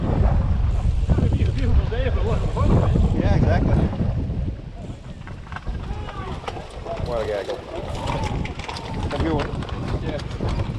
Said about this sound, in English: It's getting windier, awesome